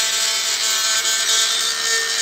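A straight grinder fitted with a diamond bit cuts rose shapes into a granite slab, giving a steady, bright, high-pitched grinding whine with a constant abrasive hiss, close and continuous.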